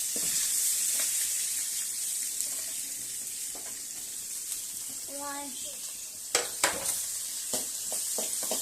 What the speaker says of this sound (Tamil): கடுகு கருவேப்பிலை பொரிஞ்சதும் சின்ன வெங்காயம்